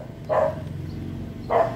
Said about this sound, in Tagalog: Ang mga aso namin